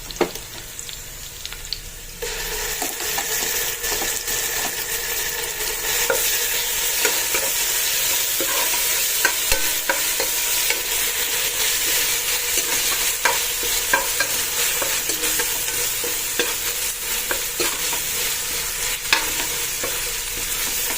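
Onions fried with ginger garlic paste for prawn biryani give a loud, continuous sizzle that jumps up after a couple of seconds and holds steady, broken only by faint stirring scrapes.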